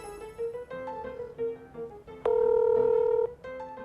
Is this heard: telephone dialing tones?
yes